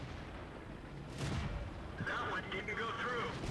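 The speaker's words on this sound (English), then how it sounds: "I'll stick around and keep shooting." Tank cannon fire in World of Tanks, a sharp booming shot partway through followed by rumbling battle noise and metallic clatter, heard over quiet background game sound.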